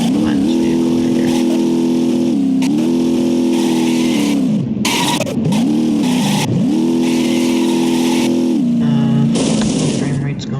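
A powerful vehicle engine in BeamNG drones loudly and holds a steady tone, dipping and rising with throttle changes, while a person talks over it.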